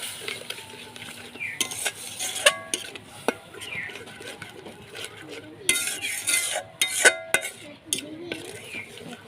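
Egg curry with poppy seed paste, mustard and a little water is stirred in a pan, with close metal scrapes and clinks coming in uneven bursts over a light simmering sizzle.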